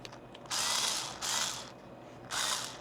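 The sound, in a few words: electric drill screwing in a rear bike light mount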